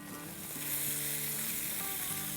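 Chicken pieces for doner sizzling and frying in a hot pan, a close, steady crackling hiss with light stirring and no voices.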